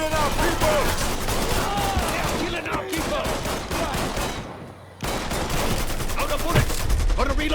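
Dense gunfire in Mafia 3 during the Stones Unturned DLC, repeated shots and bursts rattling loudly and continuously, with a brief drop near the middle before the shooting resumes at full force.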